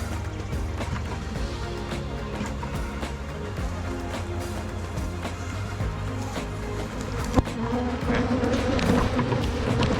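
Honeybee swarm from a hive humming densely as the bees are dumped from a bucket into a box, a steady loud drone throughout that swells near the end, with a sharp knock as the bucket hits.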